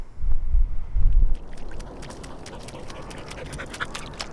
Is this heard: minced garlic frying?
no